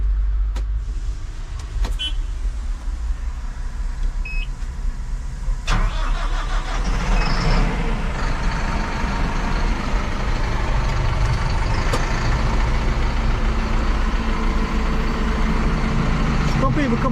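A 2021 Massey Ferguson 5S 135 tractor's large diesel engine cranks and catches, then settles into a steady rumbling idle, with a few clicks and knocks near the start.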